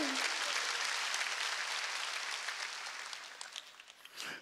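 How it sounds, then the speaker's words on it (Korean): A congregation at a church prayer service applauds loudly, a thick roar of clapping that gradually thins and fades, with a few scattered claps and a voice returning at the end. "박수야"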